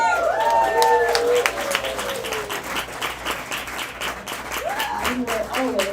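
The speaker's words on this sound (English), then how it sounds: "We will always applaud the poets" Audience applause for poets at a poetry slam, a steady wash of clapping from a crowd that continues throughout, with a voice speaking over it at the start and again near the end.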